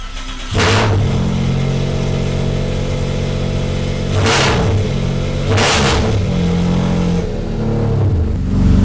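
A Subaru Legacy's EZ30 turbo engine idles with a deep, rumbling single exhaust, then revs loudly in several sharp bursts before dropping back to a throaty idle.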